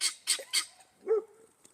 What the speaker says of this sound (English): guineas went off on me